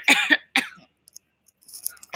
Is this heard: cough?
yes